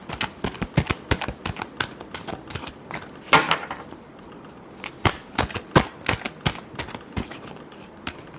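Tarot cards are shuffled by hand in a rapid series of crisp riffling slaps and flicks, close and dry, with brief pauses between bursts and no talking.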